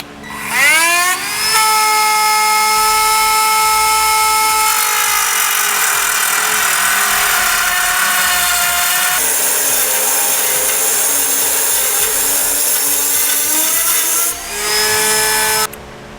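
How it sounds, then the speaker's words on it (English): A rotary tool cuts into the steel frame rail of a 2017 GMC Sierra 2500 pickup. Its loud, close, sustained high-pitched whine spins up quickly, runs steadily, dips briefly near the end and then resumes. "I'll be using a rotary tool to do this."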